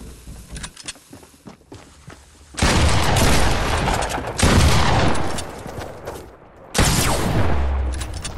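Explosive blasts from thrown dynamite in the Fortnite video game, loud broadband bursts arriving around the three-second mark and again near seven seconds, with gunfire-like crackle and rumbling debris in between.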